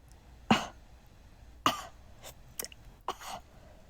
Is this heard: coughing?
yes